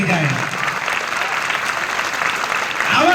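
An audience at a school Independence Day event breaks into loud, sustained applause, dense clapping filling the hall for several seconds, with a voice briefly heard at the start and end.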